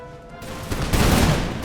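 Infantry unit in Imperial Splendour, a Napoleonic-era strategy game, letting off a volley of musket fire: a dense, crackling burst of shots swelling from near quiet into a sustained loud roar.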